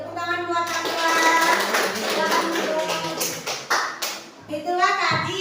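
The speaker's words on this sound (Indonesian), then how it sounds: "oke, tepuk tangan buat Akila" Children in a classroom clap for a student, a burst of quick, uneven hand claps mixed with kids' voices and a teacher speaking nearby.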